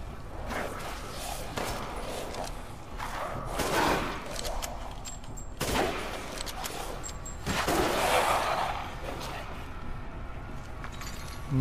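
Gunfire in Resident Evil Village while fighting werewolf-like lycans, bursts of shots with thumps and whooshes, loud and close, in uneven clusters over steady game ambience.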